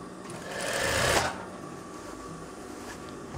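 A sewing machine runs in one short, quiet burst of rapid stitching along the collar seam of a veterinary coverall, swelling briefly and then stopping, leaving soft background noise.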